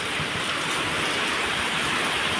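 Heavy rain driven by wind at a school grounds, a dense steady roar of downpour filling the scene close and loud without pause, no voices.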